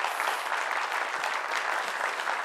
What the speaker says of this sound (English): let's give him a clap